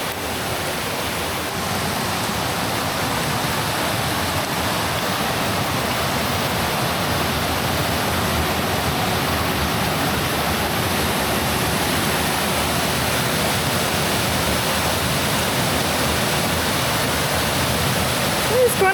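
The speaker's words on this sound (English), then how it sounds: "It's quite an impressive waterfall." A large waterfall roars as a steady, dense rush of falling water, continuous and loud throughout, with a person talking partly under it.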